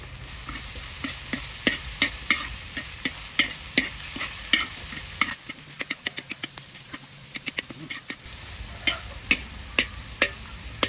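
Pork pieces frying in a pan for a Shan-style stir-fried rice noodle dish, with a steady sizzle beneath repeated scraping and tapping of a utensil stirring the meat, some strokes sharp and close, others softer.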